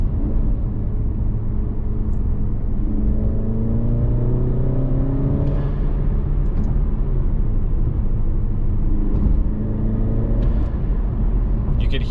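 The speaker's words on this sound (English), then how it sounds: "You could hear it like pulling a lot more air now, and the blow-off valve picks up a way deeper tone." An Alfa Romeo Giulia engine fitted with a cold air intake and blow-off valve drones loudly and steadily, its tone climbing as it pulls, with a few faint ticks above.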